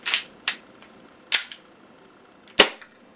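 A WE ISSC M22 gas blowback airsoft pistol fires several sharp, snappy shots with uneven gaps, each a crisp pop with a short mechanical clack from the slide, close and clear against a quiet background.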